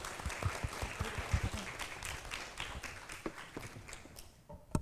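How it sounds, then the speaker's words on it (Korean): Audience applause at a startup forum, steady scattered clapping from a room of people with sharper individual claps, fading out near the end with a few last claps. "함께 해주신 두 분께 큰 박수 부탁드립니다."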